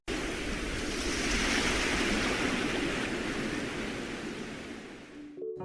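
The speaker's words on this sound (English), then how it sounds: "He heard the roaring swell." A roaring ocean swell rushes in a broad, steady wash of surf noise that slowly fades toward the end before cutting off.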